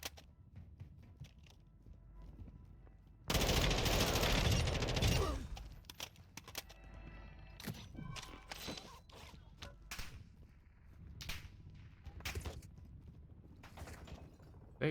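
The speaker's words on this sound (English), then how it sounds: "They already shooting at me?" Gunfire in the video game Call of Duty Modern Warfare 2, with a loud sustained burst of fire followed by scattered sharp shots and mechanical clicks against a quiet background.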